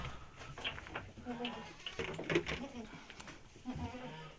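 Goats bleat on a Ukrainian smallholding that also keeps chickens and geese, several faint, wavering cries coming from nearby amid low background noise.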